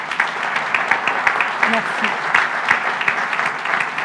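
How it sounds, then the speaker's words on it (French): A crowd at a New Year's greetings ceremony in Saint-Tropez applauds in a loud, sustained round of clapping while a voice speaks briefly over it. "vous pouvez applaudir notre administration"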